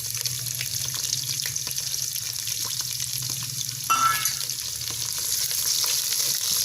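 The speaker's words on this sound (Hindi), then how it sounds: "1 कप हमने घी लिया है, इसको हमने गर्म कर लिया है। और ये 1 हमने छोटे साइज़ का प्याज लिया है, ये डालेंगे।" Small onions dropped into a cup of hot ghee set off a steady, close frying sizzle with a sudden louder burst partway through, then crackling that continues on its own with no talk.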